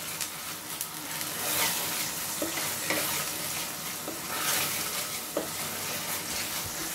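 Crispy pork intestines (isaw) sizzle steadily in a frying pan while being stirred, with occasional scraping clicks, moderately close and without talk.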